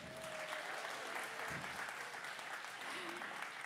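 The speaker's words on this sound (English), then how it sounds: "Ooh, round of applause for Bob." A concert crowd at a Berkeley venue breaks into dense applause that fills the room. A few voices rise faintly within the clapping.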